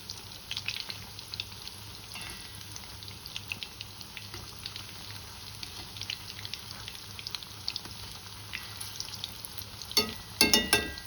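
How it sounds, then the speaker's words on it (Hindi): Pakoras deep-frying in hot oil, a faint, steady bubbling sizzle with scattered crackles, growing louder with a burst of stirring and clatter near the end. "तो जब ये मेरे पकौड़े फ्राई हो जाएंगे"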